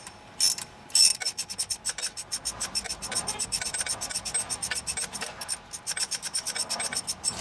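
A ratchet tightens a bolt on a Volkswagen Golf engine during a timing belt job: two short bursts, then a rapid, steady run of close, crisp clicks lasting several seconds with no talking.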